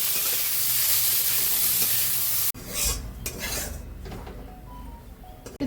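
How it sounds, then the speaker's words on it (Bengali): Ash gourd peel fries in hot oil with salt and turmeric, a steady sizzle that turns after a sharp cut into scraping stirs and clinks of a spatula against the pan. "এবার চাল কুমড়োর খোসাটা ভালো করে ভেজে নেব।"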